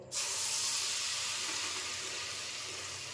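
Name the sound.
chana dal mixture sizzling as it is added to hot ghee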